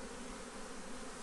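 Honeybees swarm and buzz around an open beehive with frames being lifted out, a dense, steady drone filling the whole moment at close range with no talk.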